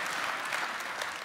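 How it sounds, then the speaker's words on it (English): A church congregation applauds, a dense wash of many hands clapping together, steady and fairly loud throughout with no speech. "but we can still clap."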